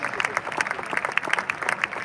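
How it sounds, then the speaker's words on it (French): A church congregation claps together during a pastor's service, quick rhythmic hand claps ringing out close and loud over the crowd, with voices audible alongside the clapping. "On acclame pour le Seigneur. Acclame bien pour le Seigneur."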